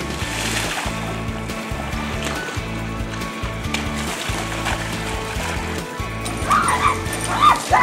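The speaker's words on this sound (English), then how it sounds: "Now the dogs are out here because they wanted to come out and see what was going on." Dogs bark, yip and whimper outdoors near a backyard slip-and-slide, close and fairly loud, with rhythmic background music and some voices around them.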